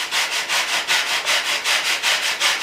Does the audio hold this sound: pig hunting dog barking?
no